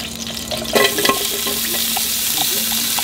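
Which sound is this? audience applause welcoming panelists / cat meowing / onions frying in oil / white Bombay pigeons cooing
onions frying in oil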